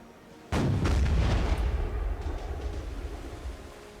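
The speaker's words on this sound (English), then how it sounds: "Sometimes I try to do this where I turn back and forth so I can use both cannons." Ship cannons in Black Desert Online fire with a sudden loud boom, followed by a long rumbling, crackling decay and scattered impacts.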